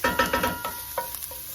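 Onions fry in a pan over medium-high heat on a burner, with a steady close sizzle and a few quick stirring scrapes and taps, no talk.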